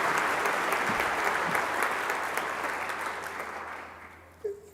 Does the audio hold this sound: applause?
yes